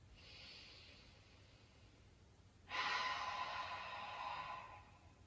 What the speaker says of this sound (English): I'm going to exhale right from the back of my throat, and I'm going to keep repeating